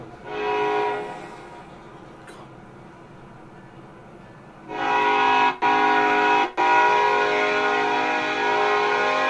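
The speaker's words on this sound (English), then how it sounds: "It's the train. Yeah, but what's it hollering about?" A train horn in the Cyberpunk game world blows in two long sustained harmonic blasts, a short one near the start and a louder, longer one later with brief breaks, heard alone without talk.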